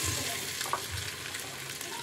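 Potatoes go into a pan of frying onions for children's khichdi, a steady close sizzle with a faint stir and a small clink partway through.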